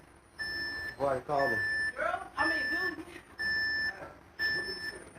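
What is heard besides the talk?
alarm beeping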